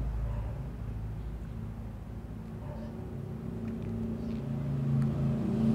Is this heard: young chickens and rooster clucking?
no